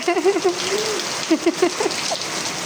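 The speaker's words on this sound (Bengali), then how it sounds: "এখন যে বৃষ্টিতে ভিজতে আছে" Steady rain patters across the whole stretch, with a voice speaking faintly underneath in short bursts.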